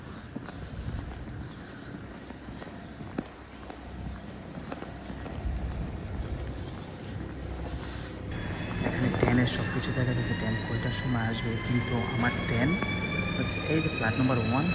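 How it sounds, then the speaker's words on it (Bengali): An intercity train passes through a European railway station, a steady rumbling roar with rising metallic wheel and brake squeal in the second half, heard from the platform at moderate distance. "আইসি এই যে আইসিটা যাওয়ার পরে আমার ট্রেনটা আসবে"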